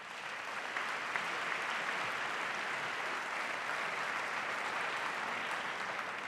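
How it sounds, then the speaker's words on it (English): Sustained applause from a presidential debate audience at Washington University, a dense, steady wash of clapping that holds at even loudness for the whole stretch with no talk over it. "give yourself a round of applause"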